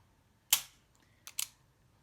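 Dry-fire trigger press on a double-action handgun, a sharp metallic click of the hammer falling, then a softer double click as the mechanism resets, close in a quiet room.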